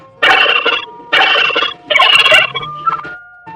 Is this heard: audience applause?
no